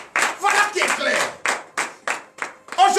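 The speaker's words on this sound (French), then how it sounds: "Donnez l'acclamation à notre Seigneur Jésus." A church congregation at morning prayer claps in acclamation in short rhythmic bursts, close and fairly loud, with brief pauses between rounds.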